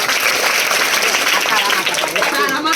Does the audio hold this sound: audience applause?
yes